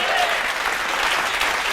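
Brief, dense clapping from an audience at a Bible study gathering, an even wash of applause heard up close with no break.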